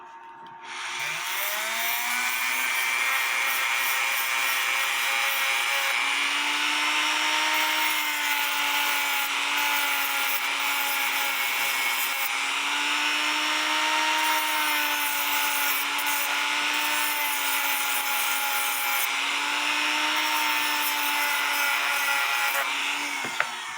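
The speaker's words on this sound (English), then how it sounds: "I like using my Dremel to do the final cleanup." A Dremel rotary tool cleans up a cuckoo clock part with a loud, continuous high whine that holds steady for the whole stretch, with small shifts in pitch as it bites into the piece.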